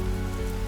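Heavy rain pours down steadily in an animated story, a dense, even hiss of rainfall on surfaces with a low hum beneath, continuous and fairly loud with no voices.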